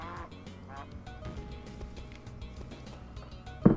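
A cartoonish duck quack rings out near the end of a busy stretch of video game music and effects in the retro-style game Back from the Grave, loud and brief against the ongoing soundtrack.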